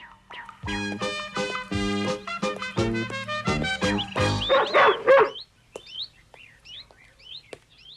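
A dog barks repeatedly in a loud, close series of deep woofs, then falls quiet amid light background noise.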